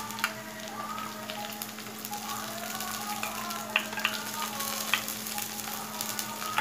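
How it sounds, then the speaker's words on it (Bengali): Onion paste added to fried onions in a hot pan for chicken kosha, a steady crackling sizzle with occasional stirring clinks over a low hum, close and continuous. "এবারে আমি এর মধ্যে 2 টেবিল স্পুন পেঁয়াজ বাটা দিয়ে দেব"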